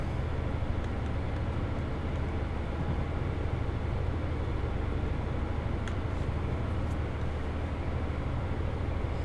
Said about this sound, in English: So I'm just going to allow the train to coast along here.